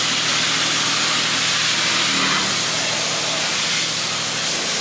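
Pressure washer spraying high-pressure soap onto a car during a wash, a loud, steady broadband hiss running unbroken and close throughout.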